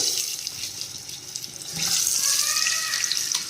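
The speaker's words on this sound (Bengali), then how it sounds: "তেলটা গরম হয়ে গেছে। তো এর মধ্যে আমি এখন এই আলুগুলোকে ছেড়ে দেবো, ছেড়ে একটু হালকা ফ্রাই করে নেবো" Potatoes go into hot oil, a soft background hiss swelling partway through into a loud, crackling sizzle that stays close and continuous.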